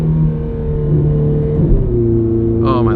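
A Ferrari F430 with the F1 transmission drones steadily from inside the cabin. Its engine tone shifts in pitch through quick downshifts, and a brief rising rev blip comes at the end.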